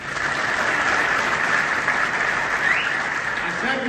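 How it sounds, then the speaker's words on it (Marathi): Sustained, dense applause from a political rally crowd listening to a Marathi-speaking politician, steady and loud throughout, with faint voices and a brief shout mixed in near the end. "अशा टाळ्या वाजवा ना"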